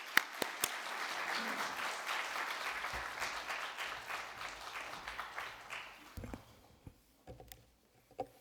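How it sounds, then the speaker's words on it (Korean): A church congregation at a Sunday service claps in steady applause to welcome a speaker, sustained for several seconds before thinning to scattered last claps. "우리 박수로 환영하겠습니다."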